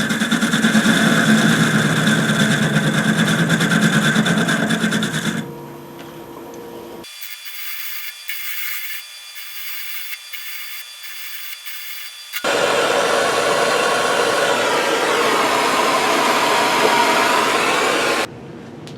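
A small Atlas 618 metal lathe thins a washer super-glued onto a mandrel, giving a loud steady whir and rub of cutting that stops for several seconds, then resumes just as strongly before cutting off.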